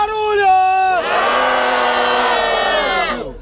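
Rap battle crowd at a Brazilian freestyle event roars and cheers in a sustained loud wave of voices lasting several seconds, following a brief shout from the host.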